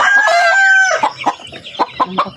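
A chicken gives a drawn-out, crowing call, then a series of short, sharp clucks in quick succession, close and loud.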